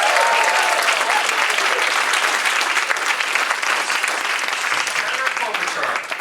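Loud, sustained applause from a large crowd at a political climate change event, dense clapping that carries on evenly for several seconds.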